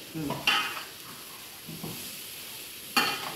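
Ash gourd pieces for a gourd curry frying in a pan, heard as a quiet sizzle broken by a few brief scrapes and clinks of a spatula.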